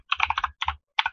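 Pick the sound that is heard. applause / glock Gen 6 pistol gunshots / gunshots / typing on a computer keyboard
typing on a computer keyboard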